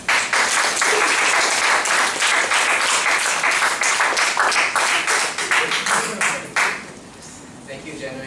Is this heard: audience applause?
yes